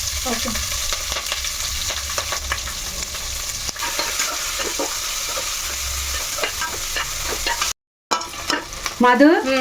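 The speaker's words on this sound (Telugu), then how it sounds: "ఇలా కొంచెం కలర్ వచ్చేదాకా వేయించుకోవాలి" Sliced onions and a handful of green chillies fry and sizzle steadily in a pan with repeated stirring, the sound loud and continuous, dropping out briefly near the end before resuming with scraping clinks.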